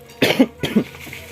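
Two close, raspy coughs in quick succession, fairly loud, with faint background noise between them.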